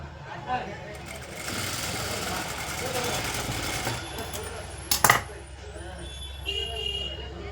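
A sewing machine stitches piping onto a blouse, a soft mechanical whirr running steadily for a few seconds and then stopping. A few brief clicks and knocks follow, quiet and close, with no talking.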